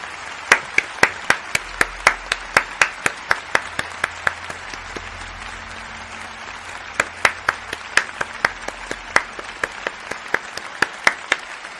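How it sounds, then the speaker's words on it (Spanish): Applause from a small group of people, sharp individual claps ringing out in an uneven rhythm for several seconds, fairly close and alone without talk. "Voy a poner 4 horas de aplausos."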